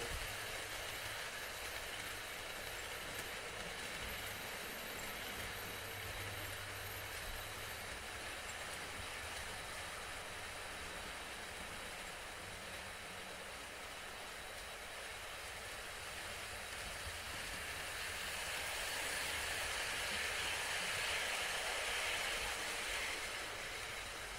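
A model British locomotive runs steadily on an outdoor sundeck layout, giving a continuous rumbling rail noise with soft wheel clatter that holds at an even level and swells slightly near the end, with no talking.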